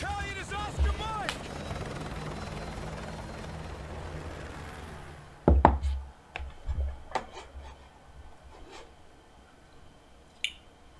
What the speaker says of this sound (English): I'll be on the chopper.